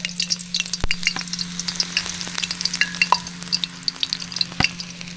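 Oil sizzles and crackles steadily in a frying pan as it heats, with scattered sharp pops and a low steady hum underneath.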